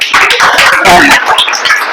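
A group breaks into loud, dense applause during a classroom quiz, the clapping continuous and fairly close throughout.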